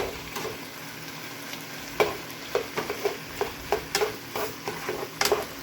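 Chicken stir fry sizzles steadily in a pan, with a string of clacking stirs and scrapes from a utensil against the pan at an irregular pace, close and fairly quiet, with no talking.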